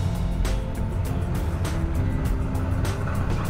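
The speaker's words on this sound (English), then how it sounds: "Foot off the brake, onto the gas." A 2020 Toyota Prius AWD-e pulls away on a slippery slip-test surface, its steady low engine and drivetrain drone holding at an even, close level throughout.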